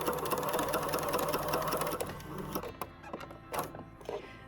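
A sewing machine stitches a cardigan seam at an 1/8-inch allowance, running steadily and close for about two and a half seconds, then slowing into a few shorter bursts with light handling noise.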